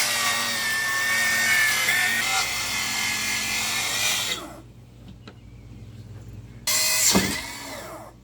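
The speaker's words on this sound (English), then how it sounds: "we're setting our track saw on here, and we're cutting through these and letting these boards drop" Track saw cutting through old pool deck boards, a loud steady whine for about four seconds that stops, a quiet pause with a few small knocks, then a second short burst of cutting.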